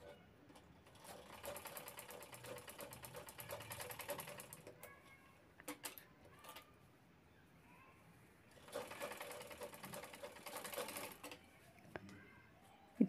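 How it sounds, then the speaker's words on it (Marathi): A sewing machine stitching the corners of a cloth bag runs in two long rapid bursts of steady mechanical clatter, with quiet handling noises and pauses between. "त्यानंतर दोन्ही कोपरे शिवून घ्यायचे आहेत"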